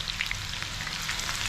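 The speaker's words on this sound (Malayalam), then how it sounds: "നമുക്കിതിലോട്ട് ചതച്ച് വെച്ചിരിക്കുന്ന ഉള്ളി ഇടാം" Crushed onion fries in hot oil, a dense, even crackling sizzle close by across the whole short stretch, with no voices.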